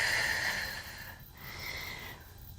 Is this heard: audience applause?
no